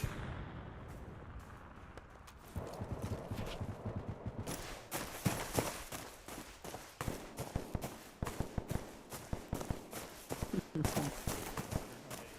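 Video game guns firing uphill in a battle, quiet at first, then a dense ongoing fusillade of sharp shots and bursts at mid distance, steady and rhythmic to the end.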